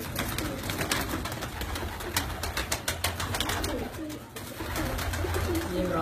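Breeder pigeons of the patti waly breed coo in a loft, with dense overlapping coos and rustling wing flaps and scratching throughout, close and steady, with faint talk in the background.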